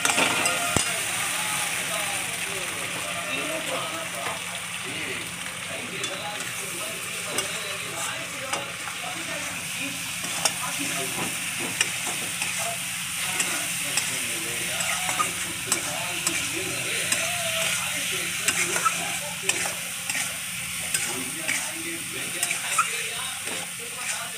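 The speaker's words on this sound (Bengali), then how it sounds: "এবার ভালো করে কষাবো।" Food being stir-fried in a hot pan, with a little sweetener added. A steady sizzle runs throughout, broken by frequent scraping and stirring strokes at close range.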